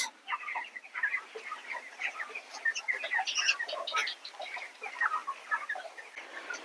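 A large flock of chickens on a poultry farm clucking and chattering nonstop, a dense, busy din with overlapping calls near and far.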